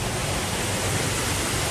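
A waterfall rushes in a constant, dense roar of falling water, steady and close with no breaks, no one speaking.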